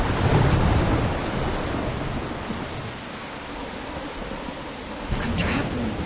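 Steady, dense rain pours down in a storm in the video game Life Is Strange, a loud continuous hiss with low rumbles of thunder beneath and a slight swell near the end.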